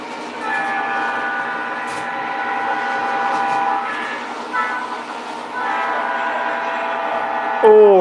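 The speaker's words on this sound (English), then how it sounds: "check out the horn on this GP9 MTH Premier." The horn of an MTH Premier GP9 toy train locomotive sounds over the rumble of the model train running on its track. The rolling hum is steady and moderately loud, and a sharp horn blast comes near the end.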